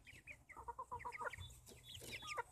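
Bantam Easter egger chicks in a young backyard flock cluck and peep close by, a run of short rhythmic calls overlapping one another against faint rustling, with no talking.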